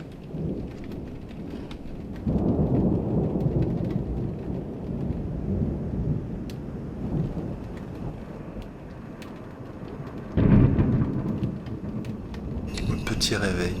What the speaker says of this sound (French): 5h du mat, on est réveillé par un super orage.